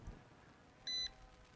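A KF101 Max S drone gives a single short electronic beep, faint and distant overhead, over soft wind noise outdoors.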